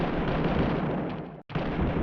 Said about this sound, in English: that thing made a fun explosion sound